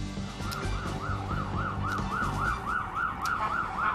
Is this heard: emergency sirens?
yes